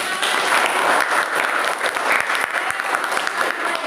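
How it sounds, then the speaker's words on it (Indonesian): A classroom full of students claps after a lesson on electrolysis, giving a dense, steady burst of close applause lasting a few seconds with no talking over it. "Oke, kasih tepuk tangan."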